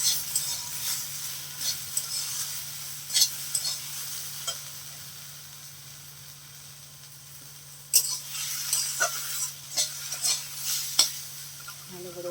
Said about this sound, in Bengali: তারপরে তাকে বন্ধুরা ভালো করে একটু নেড়ে নেবো